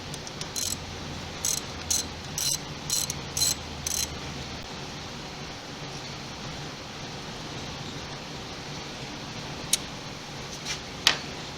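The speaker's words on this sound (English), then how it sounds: "we'll remove the two bolts on top that hold our cruise control bracket in place" Ratchet loosening throttle bracket bolts on a throttle body, several quick bursts of fine clicking early on, then a quiet stretch with a couple of faint ticks near the end.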